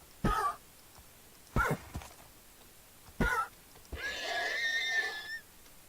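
A horse in the TerraFirmaCraft Minecraft mod gives three short, sharp snorting huffs at even intervals, then a longer wavering whinny, all close and clear against silence.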